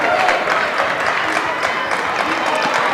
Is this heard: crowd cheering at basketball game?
yes